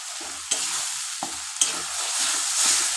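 Masala frying in a pan with water just added, a steady loud hiss and sizzle with a few sharp scrapes of a spatula as it is stirred.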